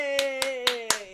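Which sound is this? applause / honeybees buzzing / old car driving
applause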